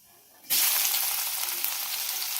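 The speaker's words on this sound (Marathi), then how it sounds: "जिरे मोहरी छान तडतडल्यावर त्यात आपण कापलेला बारीक कांदा टाकून देऊया." Finely chopped onion dropped into a hot oiled kadhai with crackling cumin and mustard seeds, bursting into a loud, close, steady sizzle after a quieter start, with no talk while it fries.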